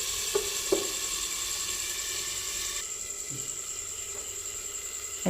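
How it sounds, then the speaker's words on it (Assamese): Capsicum, tomato and egg curry sizzles steadily in a pan, a constant close frying hiss broken by a couple of soft clinks or stirs. "এইখিনি ভালদৰে ভাজি ল'ব লাগিব।"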